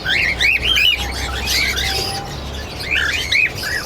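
Cockatiels in a breeding aviary with about forty pairs, chirping in repeated bright, close whistled calls that come in bursts and overlap, over a steady background hum, with no talking.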